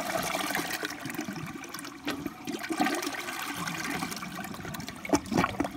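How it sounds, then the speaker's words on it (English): A round Gerber front-flushing Aquasaver toilet gives a weak siphon flush: modest gurgling and trickling water with faint glugs, fairly quiet and close, rising into a couple of short sucking gulps near the end. "Yeah, that's basically the siphon."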